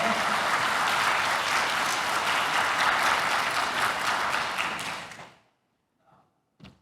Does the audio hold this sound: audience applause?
yes